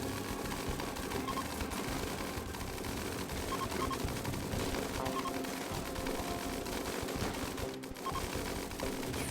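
Rapid gunfire in the video game RimWorld, including chain shotguns shooting through a wall, a dense continuous rattle of shots at moderate level for the whole stretch, with a brief dip near the end.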